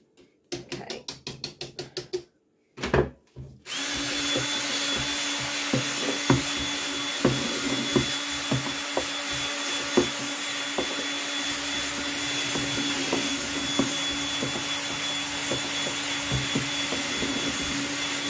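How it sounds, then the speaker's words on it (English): A paint blender attachment on a drill churns tallow soap mixed with oats, running as a steady, loud whirring drone after a few brief stop-start bursts at the beginning. "that's the paint blender, and I want to get as much as I can off"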